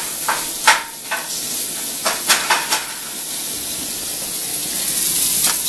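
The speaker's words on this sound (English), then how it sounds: "we got our ground beef going in the pan" Ground beef browns in a frying pan with a steady sizzling hiss, broken by a few sharp scrapes and taps as a spatula breaks up the meat.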